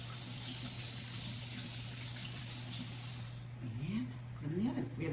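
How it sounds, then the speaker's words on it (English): Water from a kitchen tap streams steadily into a sink while hands are rinsed under it, a close hissing rush with a low hum that cuts off partway, leaving the faint sound of wet hands rubbing and dripping. "just give my hands a quick rinse"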